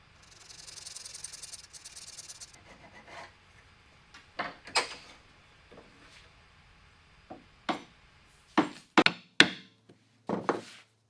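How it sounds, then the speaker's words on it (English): A chisel clears the waste between wooden dovetails for a trestle table drawer, heard as soft scraping followed by a series of sharp, close mallet-and-chisel knocks at irregular intervals, with no talking. "You can take the waste out in the middle here with chisels like I'm doing"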